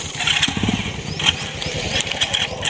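A motorcycle engine runs close by on a village road, with a loud, uneven rumble and a few brief surges in revs over a couple of seconds.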